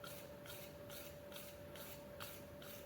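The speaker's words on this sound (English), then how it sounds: "there's the wire brush cleaning any scale so that I can try and get as smooth a surface as I can on the finish for this taper" A wire brush scrubs scale off a hot forged steel bar being tapered for a round punch, making faint, rhythmic rasping strokes about twice a second over a quiet background hum.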